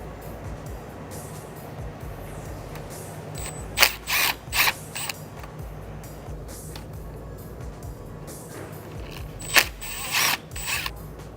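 A ratchet wrench works loose T30 Torx screws near the middle of a car radiator, with short bursts of rapid clicking over a steady low background hum.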